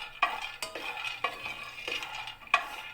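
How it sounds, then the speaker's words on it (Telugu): Peanuts dry-frying in a pan on the stove, stirred in repeated scraping, rattling strokes about every half second, close up over a faint background hum. "వేరుశనగ గింజలు అయితే ఫ్రై చేసుకుందామండి"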